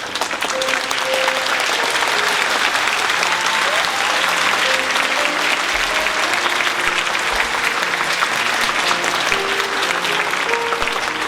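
Sustained applause from a school graduation ceremony audience, steady and dense throughout, as long-service staff are honoured with commemorative gifts at a joint graduation of five Anglican primary schools.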